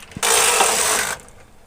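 A knitting machine carriage is pushed across the needle bed to knit one row with ravel cord. It makes a single loud, steady mechanical rasping whir for about a second, then cuts off sharply and leaves a quieter tail.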